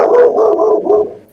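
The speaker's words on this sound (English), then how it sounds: "Sound like a big dog." A big dog gives a low, drawn-out bark or growling howl, loud and close, tailing off after about a second.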